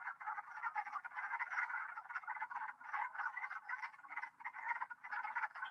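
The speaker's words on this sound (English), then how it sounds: "the mating of the wood frog" Wood frogs call in dense overlapping croaks during spring mating at a cold nature preserve, a steady chorus of clucking calls with no voices.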